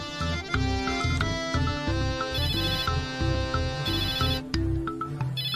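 A mobile phone rings with a melodic ringtone for an incoming call, repeating its tune steadily and loudly throughout, with no talk over it.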